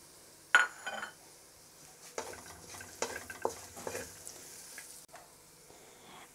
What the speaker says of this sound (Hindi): अब हम इसके साथ ही खड़े मसाले को भी फ्राई कर लेंगे।